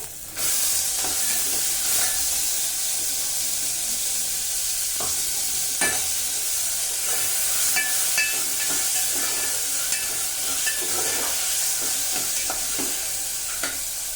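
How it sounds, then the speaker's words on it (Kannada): Onions fry in a pan while being stirred, a loud continuous hissing sizzle up close with scraping stirs and occasional clinks of the utensil against the pan. "ಈರುಳ್ಳಿ ಫ್ರೈ ಆಗ್ತಿದೆ."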